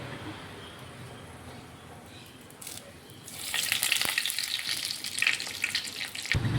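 Oil sizzles loudly as curry leaves hit the pan after popping mustard seeds, a bright crackling burst that swells after a quieter stretch of low frying noise.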